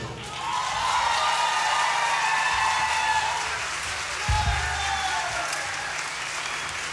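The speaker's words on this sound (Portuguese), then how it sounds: "Forte aplauso para estes músicos extraordinários e tão generosos." A concert audience applauds musicians in a dense, sustained wash of clapping that swells in quickly, holds steady and loud, and carries on throughout with a few louder thumps near the middle.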